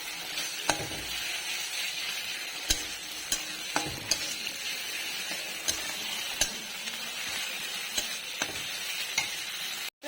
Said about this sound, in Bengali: প্রথমে পেঁয়াজটা ভেজে নিচ্ছি লাল লাল করে আলুটা ভাজা হয়ে গেছে দিয়েছি মশলাটা ভাজা হবে